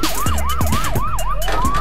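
An ambulance siren sounds in the Emergency HQ video game, several quick rising-and-falling wails followed by a long upward sweep, loud and close over a low engine hum.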